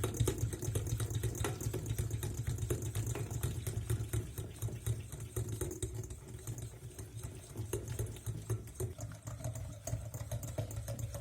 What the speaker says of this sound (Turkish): Bu sıvı malzemelerimizi iyice karıştırıyoruz.